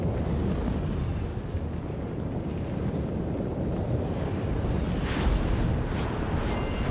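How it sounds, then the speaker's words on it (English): Strong wind sweeping across a windy climbing area in the game Sky: Children of Light, a constant loud rushing roar with gusty swells and no voices. "climb this windy area and try not to get blown off"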